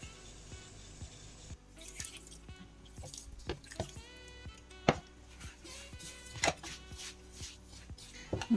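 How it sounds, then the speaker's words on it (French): Hot water poured onto couscous semolina in a kitchen, a soft trickling splash with scattered drips and small clinks over about eight seconds, close and fairly quiet. "Donc là, je vais mouiller mon couscous"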